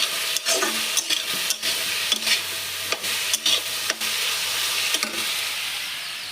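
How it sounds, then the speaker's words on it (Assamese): Potatoes and cauliflower fry with a steady loud sizzle in a home kitchen pan, broken by repeated short scrapes and knocks of a stirring utensil. "আলু ভাজি আৰু ফুলকবি ভাজি, মানে আলু আৰু ফুলকবি দুটা মিক্স"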